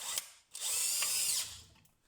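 A DeWalt DCD996N 18V cordless drill with a 10 mm bit whines up and bores into wood in one sustained burst of about a second, bracketed by brief clicks and a short rev, fairly close and otherwise quiet.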